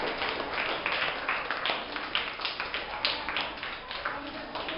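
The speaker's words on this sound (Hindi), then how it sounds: "तो इस बच्चे के लिए और जोर से एक बार तालियां बजाओ।" A group claps steadily for a student, producing dense, even applause that goes on unbroken at a moderate level for several seconds.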